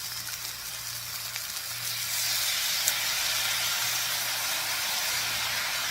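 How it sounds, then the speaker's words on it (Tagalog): Yakitori sauce poured into a hot pan with chicken, a loud steady sizzle and hiss that surges partway through and holds, close up, with no talking. "Dito nyo na ngayon ibuhos ang sauce."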